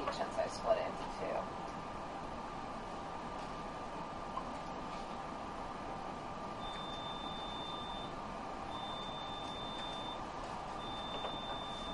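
A faint electronic beep repeats at regular intervals in the background of a quiet, hissy lab room during yeast cloning work, with brief talking at the start.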